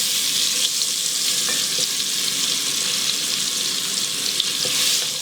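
Mushrooms for a beef short rib bourguignon fry in a pot, giving a steady, close, bright sizzle with a few faint stirring ticks and no voices.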